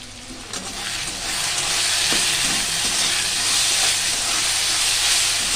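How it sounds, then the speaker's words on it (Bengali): Banana blossom curry sizzles in a hot pan with a steady, loud hiss, and spoon scrapes sound now and then as the spices are sautéed. "কষিয়ে নিই ভালো করে, এরপর মোচাগুলো দিয়ে দেবো।"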